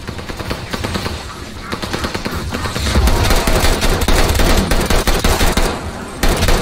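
Sustained automatic fire from an STG-44 in Call of Duty, loud, rapid repeated shots that grow denser and heavier partway through, with game effects around them.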